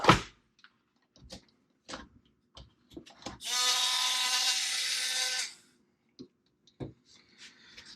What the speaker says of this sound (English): I've got a cheap little Dremel tool here.